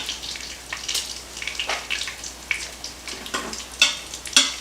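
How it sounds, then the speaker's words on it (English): Beef cubes browning in rendered bacon fat, giving a soft continuous sizzle with scattered crackles and pops; a few louder spits come near the end, and nobody talks. "our cut meat, and we're going to brown it on all sides in that fat"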